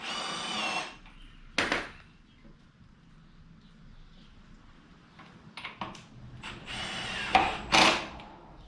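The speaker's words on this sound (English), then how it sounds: "Battery's going dead on my impact here." A cordless impact wrench on a weakening battery works on Yamaha Vmax front forks, giving short, uneven bursts of whirring and hammering, strongest at the start and again near the end, with quieter stretches and brief talk between.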